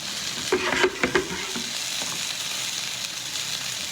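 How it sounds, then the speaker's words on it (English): Vegan kofte kebabs sizzle steadily in hot oil, a constant crackling hiss, with a few clacks of a utensil stirring near the start. "they are frying up a treat"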